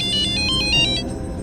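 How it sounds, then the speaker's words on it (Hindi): A phone ringtone chimes in short repeated bursts, loud and close, sounding alone for about a second and a half before stopping. "लॉटरी वाला क्यों फोन कर रहा है?"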